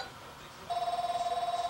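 A home telephone rings indoors, a steady electronic ring starting partway through and pulsing in a regular rapid rhythm, fairly faint with room noise before it.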